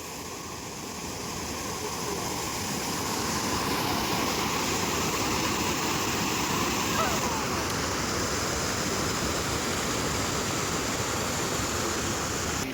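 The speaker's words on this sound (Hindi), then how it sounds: "नेचुरल पानी की झरनों की आवाज़ आप सुन सकते हैं।" A steady rushing roar of falling water at Gucchu Pani (Robbers Cave), Dehradun continues throughout, dense and constant, with no voices over it.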